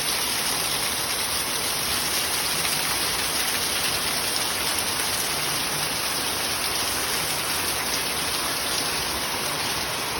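Heavy rain pours down in the Philippines as a dense, steady roar of water on surfaces that stays loud and unbroken throughout, with no voices.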